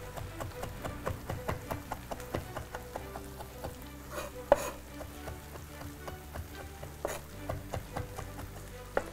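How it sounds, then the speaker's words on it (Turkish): Quick, light knife taps on a cutting board as fresh thyme is chopped fine for a Turkish tas kebab, a steady irregular patter at moderate distance with kitchen background noise. "Onu böyle birazcık minik doğrarsınız."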